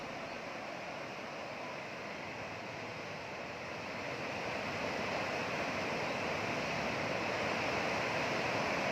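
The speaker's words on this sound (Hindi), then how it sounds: "पानी का बहाव आप देखिए कितना तेज" Fast-flowing floodwater during flooding in Assam gives a steady, loud broadband rush that swells slightly louder midway and continues unbroken, with no voices.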